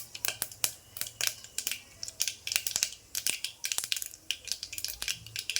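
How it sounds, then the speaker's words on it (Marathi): Mustard seeds splutter in hot oil for a sambar tempering, a rapid, irregular run of sharp crackling pops close by, continuing densely without talk. "बघा अशी मोहरी पूर्ण तडतडून द्यायची."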